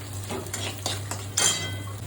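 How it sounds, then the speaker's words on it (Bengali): Chana dal fries in a pan with a low crackling sizzle while a spatula scrapes and stirs in several short strokes, one louder clatter standing out over a steady background hum. "ছোলার ডালটা ভেজে দিলাম, যে ভাজা ভাজা একটু হয়ে গেল।"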